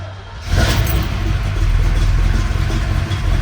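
A 1969 Chevrolet Camaro Z/28 engine cranks without pumping and catches, then settles into a loud, steady idle with a slight rev, close by.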